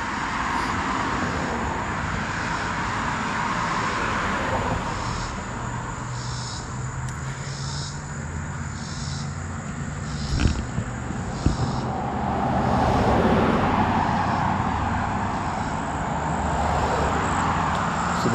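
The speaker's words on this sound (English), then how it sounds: "Hopefully these cars aren't too loud." Cars pass on a roadside with a 35 mph limit, making a steady wash of traffic noise heard close from the sidewalk that swells as vehicles go by.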